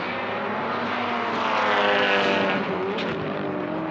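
A Subaru WRX time attack car at a racing event roars past close and loud, its engine note sweeping and swelling mid-pass with sharp downshift blips near the end, no voices.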